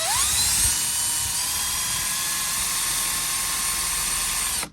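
A loud, continuous high-pitched whine of a drill boring holes for model railroad utility poles, spinning up at the start and cutting off abruptly at the end.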